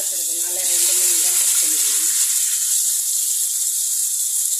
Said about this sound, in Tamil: எண்ணெய் காயிட்டோம் இந்த மீனெல்லாம் பொறிச்சு எடுத்துக்கலாம்